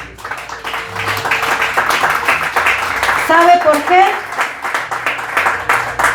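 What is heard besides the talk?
church congregation clapping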